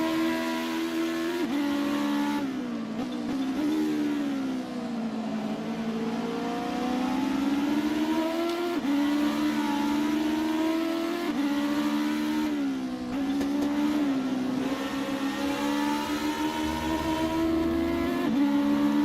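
Race cars in the Assetto Corsa video game lap Brands Hatch, their engines droning steadily with rising and falling pitch as they accelerate and shift, a continuous moderately loud roar with no talk.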